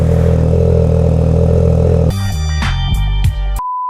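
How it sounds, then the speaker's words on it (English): A sportbike with an aftermarket exhaust runs loud and steady right after a cold start, a dense close engine drone that then breaks into choppier, uneven bursts before cutting out. "let's go ahead and give this a quick cold start"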